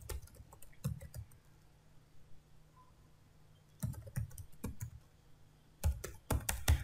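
Computer keyboard typing during a WordPress login setup, in short bursts of quick clicking keystrokes separated by quiet pauses, close and fairly soft.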